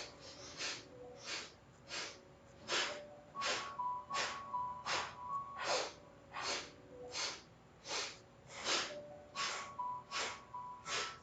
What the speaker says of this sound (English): Now let's start to sniff in 4 and exhale 4.